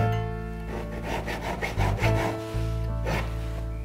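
Metal file rasping against a jewellery piece in short back-and-forth strokes, close and fairly loud over a steady low hum, the rhythm uneven with a brief pause midway.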